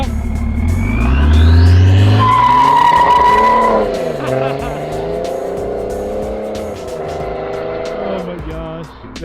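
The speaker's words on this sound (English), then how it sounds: "A fast diesel BMW." A fast diesel BMW with a 3-liter inline-six accelerates hard, its loud engine note climbing steadily and then holding high as it pulls away, tires squealing briefly at the start, with no talk over it.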